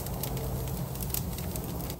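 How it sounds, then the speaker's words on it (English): Steady crackling sizzle with sharp pops scattered throughout, a constant hiss of flank steak frying on a hot grill. "Hear that sizzle."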